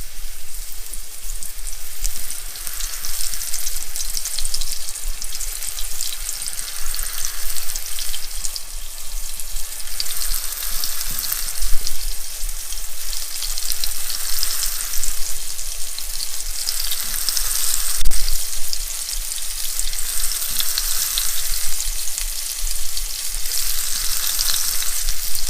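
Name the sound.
thin beef slices frying in oil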